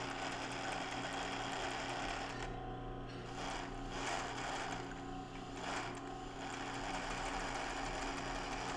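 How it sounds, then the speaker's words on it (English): Sewing machine running a straight stitch along linen edges for a tank top collar line: a steady close mechanical whir with rapid needle rhythm, briefly pausing and restarting in short bursts. "So the first thing is to place straight stitch."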